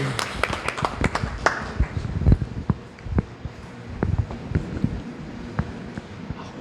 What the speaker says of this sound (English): Babaji, everybody give him a round of applause.